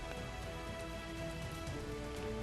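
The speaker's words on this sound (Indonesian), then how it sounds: "Hingga Sabtu malam hujan masih mengguyur Kota Batam" Steady rain falls over the city of Batam on a Saturday night, a soft, even hiss of drops on surfaces heard faintly and continuously, with no voices.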